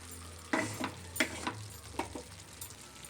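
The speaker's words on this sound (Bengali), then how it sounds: "আবারও আমি খুব ভালো করে নেড়ে দেব।" Liver curry with chopped coriander leaves is stirred in a pan over a soft sizzle, with a few distinct scraping strokes of the spatula close by.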